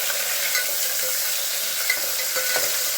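Onions and green chillies fry in hot oil, giving off a steady bright sizzle, with occasional soft scrapes and clinks as the pan is stirred.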